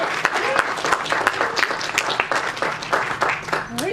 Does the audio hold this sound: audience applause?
yes